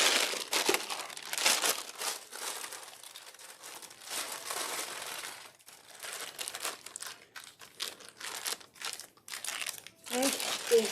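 A plastic piping bag being handled for soap making, crinkling and rustling in irregular bursts close by, with brief quieter gaps between handlings and no talking.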